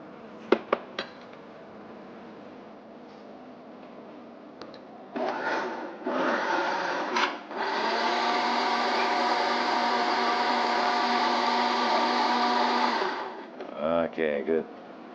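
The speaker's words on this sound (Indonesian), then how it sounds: "dengan oatnya dimasukin blender dulu" A kitchen blender whirs loudly through vanilla soy milk and oats in bursts, settling into a steady high motor whine for several seconds before cutting off, with brief clatter and voices around it.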